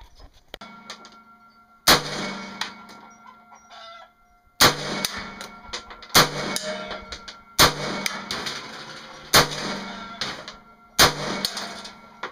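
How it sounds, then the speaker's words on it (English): Rifle shots from Wolf steel-cased .223 ammunition, six sharp loud reports spaced a second or two apart, each ringing out briefly after an earlier faint pop. "So we'll go ahead and load up and set off a few rounds."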